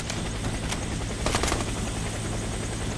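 A video-game helicopter arrives for extraction. The rotor drones loud and continuous, with brief sharp thumps mixed in and no voices.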